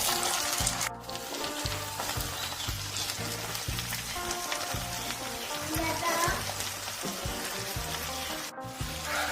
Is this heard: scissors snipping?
no